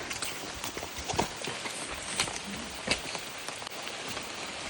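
Steady patter of rain easing off on a surface, with scattered louder drops and taps, moderate and continuous, no voices.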